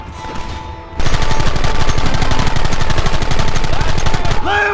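Rapid, loud volleys of gunfire in Red Dead Redemption, a dense fusillade of repeated shots that starts abruptly after a second of quieter ambience and continues steadily to the end.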